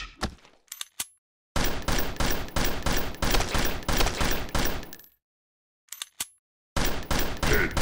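Rapid bursts of gunfire in the Android zombie shooter game Zombie Hunter Fire, loud rhythmic volleys of shots separated by short silent gaps, with no voices.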